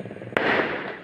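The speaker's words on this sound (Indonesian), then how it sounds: "kedengaran sudah kembang api ya" A single firework bursts with a sharp crack on New Year's Eve along a road in Wado, Majalengka, followed by a broad, rushing rumble that fades slowly over low background noise.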